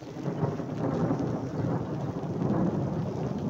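Thunder rolls through a heavy rainstorm, a deep sustained rumble layered over constant rain hiss, loud and unbroken with no voices.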